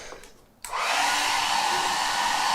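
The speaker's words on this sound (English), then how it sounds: "Let's run this hair dryer." A hair dryer powered from a BLUETTI portable power station starts abruptly after a brief quiet moment, then blows at a loud, steady roar with no talking.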